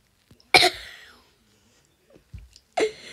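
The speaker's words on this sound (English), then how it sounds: "I just coughed" A sharp single cough, then a short quiet sound and another cough-like burst, close and alone in an otherwise silent room.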